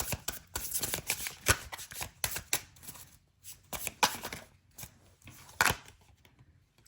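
Tarot cards being handled and laid out: crisp, close riffling, flicking and slapping of cards in irregular bursts, with quiet pauses between the rustling sequences.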